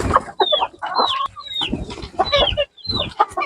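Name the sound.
chickens clucking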